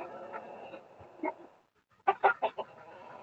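A hen or chicken gives a few short clucks, the first ones scattered and faint, then a close run of four quick clucks near the end, with no talking.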